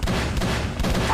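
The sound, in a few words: gunshots in Call of Cthulhu: Dark Corners of the Earth video game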